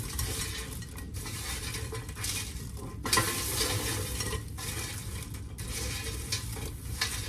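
Sweet and salty popcorn tumbling and being stirred in a bowl, a continuous rustling, crackling texture with occasional clinks, close and steady throughout, no talking.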